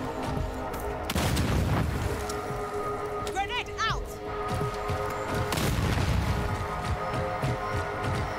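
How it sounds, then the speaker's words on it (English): Grenade blasts in the game Second Extinction: two deep booming bursts a few seconds apart over constant background rumble and scattered game effects, with voices talking in between. "Throwing grenade!"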